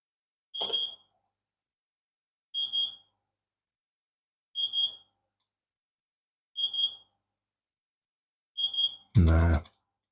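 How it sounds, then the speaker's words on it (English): A kitchen timer signals that tea is ready with five evenly spaced pairs of sharp, high beeps about two seconds apart, heard clearly in a quiet room, followed by a short burst of other sound. "that's my tea ready, beeping in the background"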